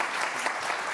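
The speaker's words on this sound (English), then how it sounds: "If we can please give a round of applause." Dense applause from an audience after guest speakers at a congressional event, a continuous wash of many hands clapping at steady volume without speech.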